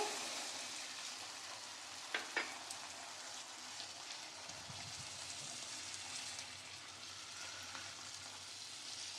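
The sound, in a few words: sautéing peas with potato curry in a pan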